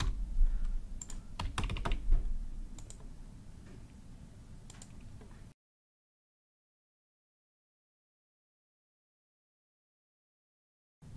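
Close, rapid keystrokes clatter on a computer keyboard for about five seconds, with a few sharper clicks among them. Silence follows, and a brief sound returns at the very end.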